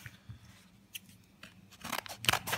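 Magic: The Gathering Amonkhet booster pack wrappers being torn open, a close crinkly foil rustle with scattered snips and crunches that build into louder tearing bursts toward the end, with no talking.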